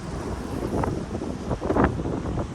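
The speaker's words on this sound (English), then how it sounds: "It's a bit windy down here." Gusty wind buffets the microphone with a low rumbling roar that swells and fades, no voices present.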